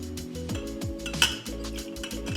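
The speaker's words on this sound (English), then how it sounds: "I'm gonna put an ice cube into our rocks glass." An ice cube drops into a rocks glass for an Old Fashioned cocktail, giving a sharp glassy clink and rattle amid a few small knocks of barware, close and quiet.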